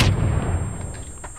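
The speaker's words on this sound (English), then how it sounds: "It's a grenade." A grenade goes off in the first-person shooter Blacklight: Retribution, a loud low boom that rolls into a long rumbling decay with no voices over it.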